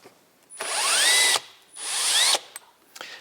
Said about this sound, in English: we're going to need to remove the, what is it, 6 screws from the air box.